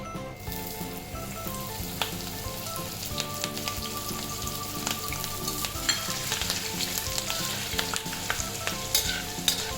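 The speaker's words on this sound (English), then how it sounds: "Now this is already browning, and to this we add our green chilies." Green chilies sizzling in hot oil with browning minced meat for keema masala, a loud, dense, continuous crackle with sharp pops and stirring, no voices.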